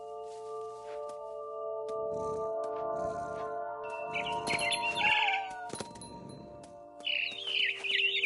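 Birds chirp in the video game What Remains of Edith Finch, with bright bursts of twittering calls rising over a quiet ambient backdrop of sustained tones and soft rustling, no voices.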